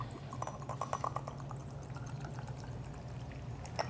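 Grappa pours into a container for a Tuscan Martini, a soft, quiet liquid trickle with a few small splashes early on that settles into a gentle steady stream.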